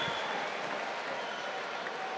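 A boxing arena crowd applauds and roars steadily after a bout between Carl Frampton and Horacio Garcia, a dense, continuous wash of clapping heard from within the venue.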